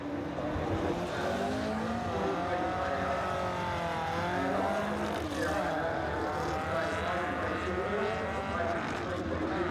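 A 1962 Lotus 11 vintage race car with an 1100cc engine on a sprint run through downtown Geelong, its engine note rising and shifting steadily through gears, loud and continuous, with a voice talking over it.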